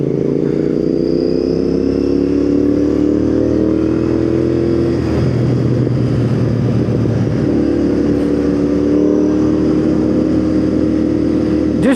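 Royal Enfield motorcycles, a Himalayan leading four GTs and a chrome GT, ride in convoy on the road to Agra, their engines giving a steady, loud drone with wind rush and slight shifts in pitch throughout.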